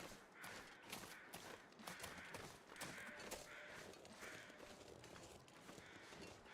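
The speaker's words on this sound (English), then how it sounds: "Hearing birds this way." Crow-like birds caw repeatedly in the wilderness of The Long Dark survival video game, faint and distant in a steady rhythm over soft ambient wind and footstep-like crunching.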